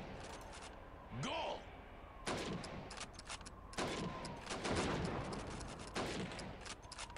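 Sharp rifle shots ring out at helmet targets on a Call of Duty 2 training range, several spaced cracks over a steady game-world bed, with voices talking in between.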